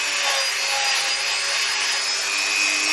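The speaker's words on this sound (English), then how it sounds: "I'm just cleaning the top of these threaded holes out because they have a tendency" A tool cleans out threaded holes on a ZZR600 motorcycle part, producing a loud, continuous, close-up scraping rasp with no talking.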